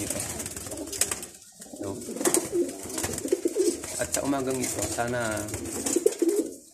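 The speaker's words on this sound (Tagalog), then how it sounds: "Mga Kalapati natin ito." Homing pigeons of a racing line coo softly and repeatedly close by, their low throaty calls running under someone speaking Filipino throughout.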